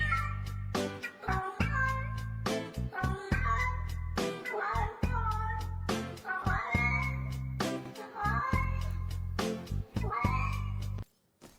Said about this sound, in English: I think we have a meow meow sound.